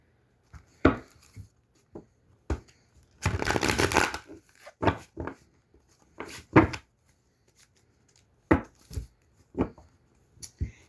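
Tarot cards being shuffled by hand in short separate bursts of riffling and tapping, with one longer sustained shuffle, close and fairly quiet between pauses.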